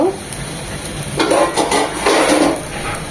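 Three ripe chillies, slit down the middle, frying in a pan, with a loud sizzle that swells as they hit the oil, plus a few light clinks of a utensil.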